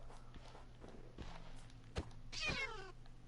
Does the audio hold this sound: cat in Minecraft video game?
yes